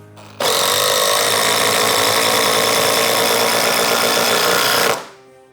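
A DeWALT DCF888 impact driver drives a fastener home in one loud, steady, close burst of rapid hammering whir lasting about four and a half seconds, starting abruptly and then winding down.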